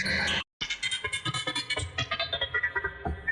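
A processed drum pattern with a heavy, warbling vocal-style effect, loud and rhythmic, with a short gap of silence near the start.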